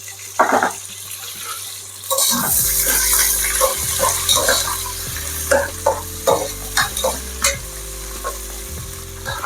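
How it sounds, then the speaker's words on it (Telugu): Two medium onions, sliced lengthwise, sizzle steadily in a pan, and a utensil scrapes and stirs through them in repeated knocks that rise above the constant close frying hiss. "ఆనియన్స్ బాగా ఫ్రై అవ్వాలి"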